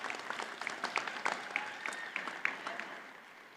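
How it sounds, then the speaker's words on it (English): Audience applause at the 2025 UC Berkeley School of Education commencement ceremony: scattered, fairly distant clapping from a crowd, with sharp individual claps rising and falling before tapering off quietly. "Yes, that is worth clapping about."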